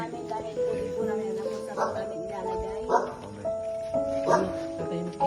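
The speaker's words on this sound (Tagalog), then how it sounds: "ang mga aso ay nagsisitahol" Several dogs bark and yelp repeatedly at a moderate distance at a resort at night, overlapping one another while a person talks nearby.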